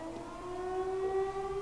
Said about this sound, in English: It sounds like a siren. It seems to be coming from the fort.